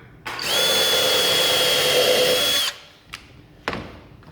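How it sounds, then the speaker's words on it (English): A power drill whines steadily at high speed for about two seconds while pre-drilling hardwood, then stops, followed by two short knocks. "you always want to pre-drill it before you stick a screw in"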